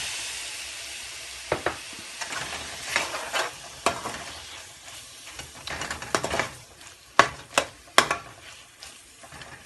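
Chopped medium tomatoes sizzle in oil with turmeric for a chicken curry, while a spoon stirs and scrapes the pan in uneven, close, fairly loud bursts over a constant frying hiss.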